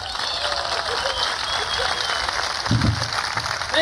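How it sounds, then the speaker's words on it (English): Applause breaks out as a comedian is welcomed onto a live comedy stage, a steady crowd clapping at moderate level with cheering mixed in and a brief louder swell near the end. "Please, a nice big round of applause, Bentoni, right here."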